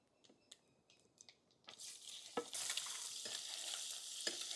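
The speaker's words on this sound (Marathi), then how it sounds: "अंडे फ्राय करून घेऊ व्यवस्थित आपण।" Boiled eggs fry in a pan with coarsely ground whole-spice masala, a soft sizzle building after a few light scrapes and taps, then a steady close frying hiss punctuated by stirring knocks.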